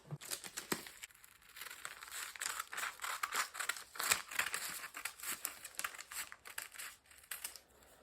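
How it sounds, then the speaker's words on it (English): Scissors cutting through fabric for a camisole top, a run of close crisp snips and rustling cloth in uneven bursts, with no talking. "Now we have to cut it out."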